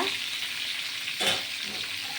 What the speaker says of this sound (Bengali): এইবার আমি লবণ হলুদ দিয়ে এবার ভাজা করব